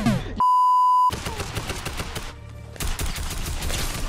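Rapid gunfire from a Fortnite creative-mode match, a loud burst of shots following a sharp electronic beep, then continued shooting and clatter with a dense game soundtrack underneath.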